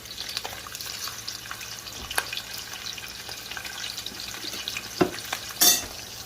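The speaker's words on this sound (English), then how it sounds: "So this is how it looks like when you're frying it in a small increments" Sausages sizzle and crackle steadily in a pan, with clinks and scrapes of turning, and a couple of louder pops near the end.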